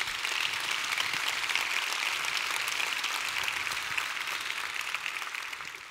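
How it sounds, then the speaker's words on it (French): A hall audience at a women's forum applauds steadily and enthusiastically for several seconds, a dense even roar of clapping that tapers slightly at the end. "Donc on peut vraiment encore les applaudir très fort pour ce super moment."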